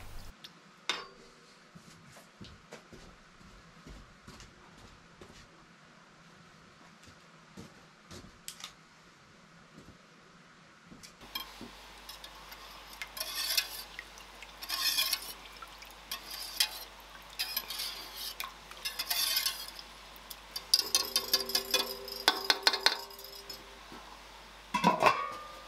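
A wire whisk cuts through and stirs cheese curd and whey in a pot, making wet sloshing, swishing and light scraping in irregular bursts that grow busier and louder partway through, close by, with no talking.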